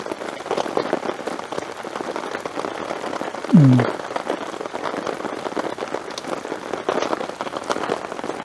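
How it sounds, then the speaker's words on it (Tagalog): Steady, heavy rain pattering continuously on a surface at a campsite in Baguio, dense and close, with a brief low thump partway through. "Lumakas pa ang ulan."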